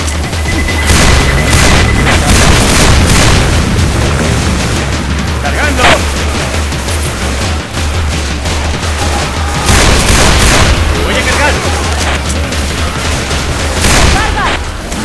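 Loud, dense booms and blasts from grenade explosions in Left 4 Dead 2 pile up with gunfire into a continuous roar, and players shout throughout.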